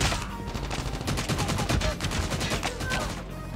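Rapid continuous gunfire from the ICR Lava rifle in the mobile shooter Call of Duty Mobile, a dense loud rattle of shots sustained throughout with game ambience underneath.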